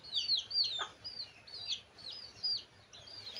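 Chickens in a village yard give repeated short, high clucks and chirps at moderate distance over a quiet background, in an irregular rhythm across a few seconds.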